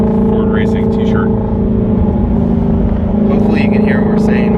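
The loud exhaust of a Ford Mustang GT350 drones steadily from inside the moving car, a low, constant rumble with people talking over it.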